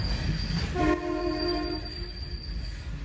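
A train on the free Poson service between Mihintale and Anuradhapura sounds a loud, steady horn blast of about a second amid continuous rumbling carriage and wheel noise.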